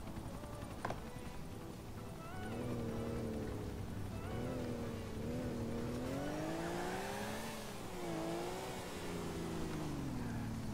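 A car engine in the video game GTA Vice City revs up and down in several swelling waves, sustained and fairly quiet, with no voices over it.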